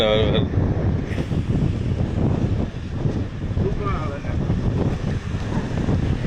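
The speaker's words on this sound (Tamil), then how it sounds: "நல்ல காற்று அடிக்குது" Steady wind buffets the microphone by the sea at Karaikal beach, a broad continuous rush that runs loud and close throughout, with voices talking over it.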